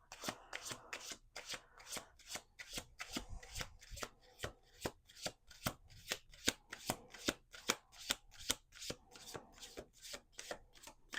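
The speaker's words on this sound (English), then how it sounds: "I'm going to actually shuffle one more time" Cards riffled and bridged repeatedly, a steady run of crisp, close fluttering bursts with no talking.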